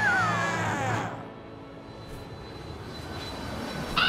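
Cartoon jet aircraft engine of the Strika Jet, a loud roaring whine with a descending pitch sweep that eases off mid-clip, then a steady lower hum that swells again near the end.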